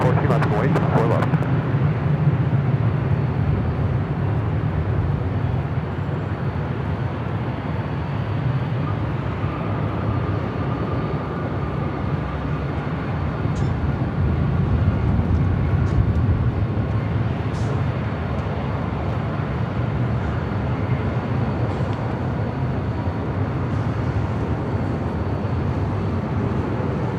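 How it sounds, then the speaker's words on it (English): A Delta Boeing 737-800 departs an LAX runway as a broad, steady jet roar that holds for the whole stretch, with a voice heard over it. "Delta Airlines Flight 1714 heading to Seattle, 737-800, next departure."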